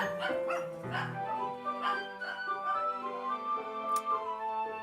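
Small dogs bark and yip in short, repeated bursts at moderate distance, layered over a quiet background tone.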